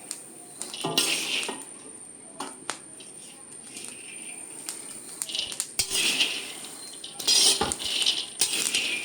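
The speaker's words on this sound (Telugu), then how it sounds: "ఇలా మంచిగా పల్లీలు వేయించుకోవాలి" Peanuts roasting in a pan for chutney in a shop kitchen, tossed so they rattle and clatter against the metal in scattered bursts over quiet background noise, close by.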